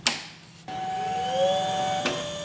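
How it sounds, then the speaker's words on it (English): A printer powers on with a brief click, then a steady mechanical whir and a rising motor tone, ending with another short clack, all close and without voices. "Turn on the printer."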